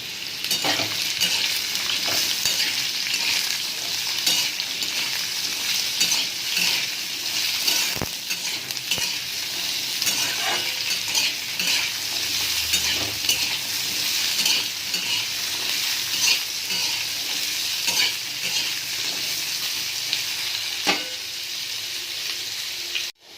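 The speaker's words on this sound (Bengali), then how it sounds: "এবার এই আলুগুলোকে আঁচ কমিয়ে কিছুক্ষণ ভাজবো" Cut potato pieces and a green chilli frying in oil on low heat, a steady close sizzle with occasional stirring scrapes and clinks throughout, no talking.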